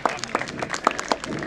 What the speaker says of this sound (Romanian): Aplauze și pentru Golden.